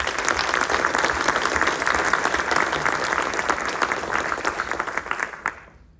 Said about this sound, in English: Another round of applause for you.